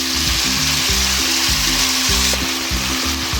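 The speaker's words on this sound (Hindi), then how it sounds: "ये शामिल कर देंगे और इसको अच्छी तरह फ्राई कर लेंगे" Chicken frying in a pan with white pepper, a steady close sizzle with bubbling crackle running unbroken throughout, plus rhythmic low scraping as the pieces are stirred.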